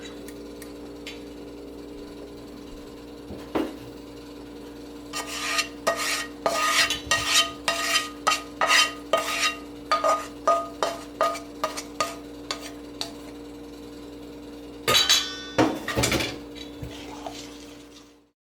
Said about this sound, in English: let's add the rest of the butter and then mix it up really good